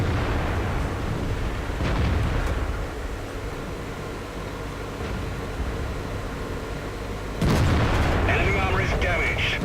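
Tank cannon shots in a tank battle video game, heavy booming blasts over a constant engine rumble, with a sharp loud report near the end; speech is faintly present.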